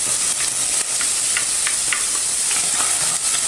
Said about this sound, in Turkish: yağımız biraz ısındığı zaman ekleyeceğiz hemen. Soğanlarımızı ekleyelim.